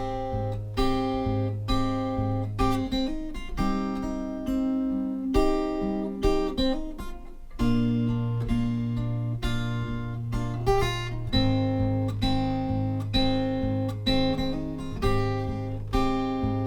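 An acoustic guitar plays a lick from a song, with steady plucked notes and chord tones ringing over a repeating bass pattern. It is close, clear and moderately quiet, with no talking.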